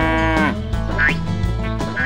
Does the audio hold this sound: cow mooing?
yes